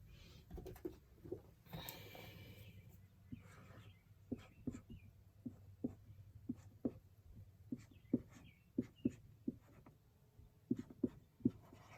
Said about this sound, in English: I'm going to write up this problem here